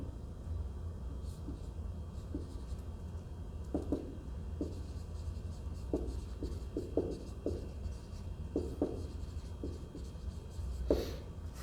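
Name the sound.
writing by hand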